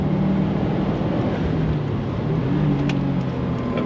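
A car's Subaru EJ boxer engine grumbles on a lap at a race track, a steady, loud low drone heard from inside the car with a few faint clicks.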